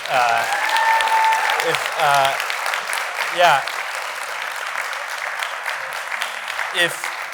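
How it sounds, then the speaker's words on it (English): Audience applause at a lecture on Protestantism and American institutions, with steady broadband clapping from a crowd and brief talk and voices heard over it throughout. "We should give them a round of applause"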